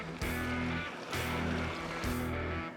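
Beef broth poured from a container into a pot for a barbecue braise, a steady close liquid gush in three pulses with short breaks between.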